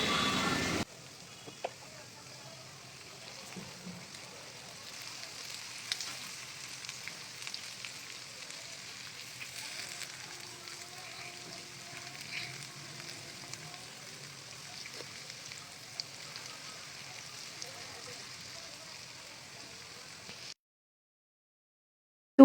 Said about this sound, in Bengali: তো উনুনে লাল লাল করে ভাজা হচ্ছে, এদিকে পান্তা ভাত রয়েছে, হয়ে গেল দারুণ ক্রাঞ্চি পেঁয়াজি।